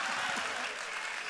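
A large Marseille crowd claps for Marie-Hélène Bourlard, a textile worker of 43 years, a loud, unbroken wash of applause with voices audible beneath the clapping.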